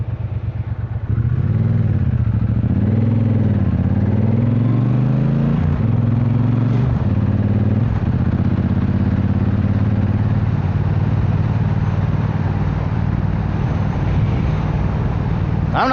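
A Triumph Modern Classics demo motorcycle rides along with a steady, loud engine drone whose pitch rises and falls through gear changes, running continuously throughout with no talking.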